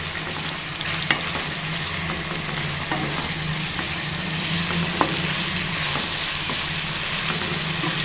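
Curry leaves and chopped coriander stirred into a Telangana-style egg curry frying in a pan, giving a steady close sizzle with soft scraping stirs and a few light clicks of the spoon, with no talk.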